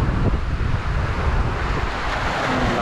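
Strong typhoon wind blasting across an open fishpen at sea, a loud continuous roar with buffeting gusts on the microphone and a wash of surf beneath, with no voices.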